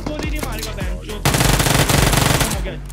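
Gunfire in the mobile game PUBG Mobile: a few separate shots, then a loud, rapid automatic burst of evenly spaced rounds that fades out.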